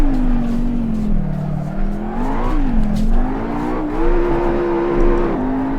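Car engine in a racing simulator game, revving and wavering in pitch as the car drifts with the back end kicked out, a continuous droning whine with a low rumble, steady and fairly loud, no speech.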